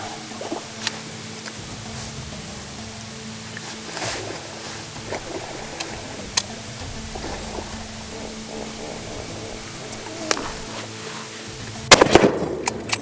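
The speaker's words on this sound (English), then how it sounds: "Shoot it in the shoulder, behind the shoulder." Rifle shots fired at a hippo during a hunt in Zimbabwe, outdoors near water: several sharp cracks spread across the scene, the loudest and densest burst near the end, over steady ambient background.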